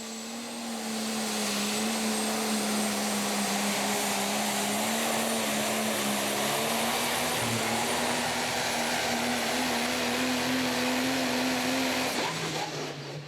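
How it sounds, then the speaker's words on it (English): A Ford Super Duty diesel pickup with a Cummins engine, running in the super stock diesel truck class at a pulling event, spools up into a loud, sustained, high-revving roar with a whining turbo tone that holds for several seconds before dropping at the end. "he's going to spool up the Super Duty here. Cummins power under the hood."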